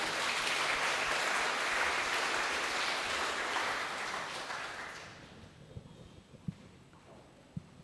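Children clapping together during a Sunday Advent church service, a dense steady patter that fades out after about five seconds, leaving a few sharp isolated knocks in a quiet hall.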